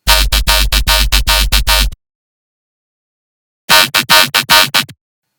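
A synthesized dubstep bass patch built in Serum plays in two bursts of short, punchy, harsh stabbed notes in a choppy rhythm, separated by a stretch of silence.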